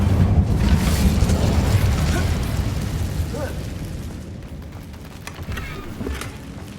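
An Incendio fire spell erupts in Hogwarts Legacy with a heavy, rumbling boom that rolls on as a dense roar and slowly fades, with faint crackles near the end.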